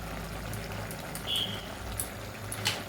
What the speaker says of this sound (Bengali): এবার একটু ফুটুক, ঝোলটা ফুটে গেছে